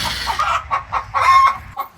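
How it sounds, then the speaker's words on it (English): Chickens clucking close by on a farm, a short burst of several quick, squawky clucks with a brief pause midway. "Chickens are making noise too."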